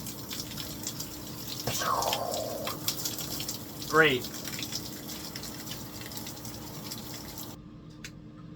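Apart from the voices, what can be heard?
shower water running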